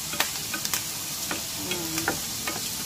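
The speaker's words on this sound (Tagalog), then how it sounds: "ipa-brown ang ginayat-gayat ko na taba, no? So, ayan po, no? Sa parehang kawali" Chopped pork fat browning in a frying pan for spicy shrimp-paste pork with coconut milk, giving a steady close sizzle with sharp ticks and spatula scrapes scattered through it.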